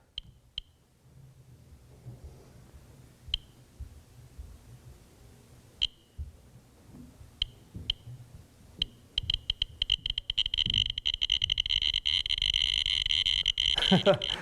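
A Geiger counter near a radiation source: sparse sharp clicks at first, speeding into a dense rapid crackle of clicks and a near-continuous chatter toward the end, with a voice talking underneath.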